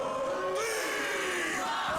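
A wrestling crowd in an arena chants and yells together in a loud, sustained roar with rising and falling voices, heard at a distance and with no commentary over it.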